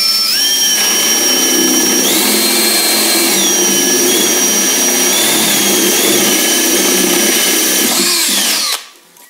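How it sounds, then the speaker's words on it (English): A power drill boring a hole for a jack socket in a DIY modular synth case, a loud continuous whine that shifts pitch several times as the bit bites, then stops abruptly near the end. "So I'm gonna drill a hole to put a jack socket."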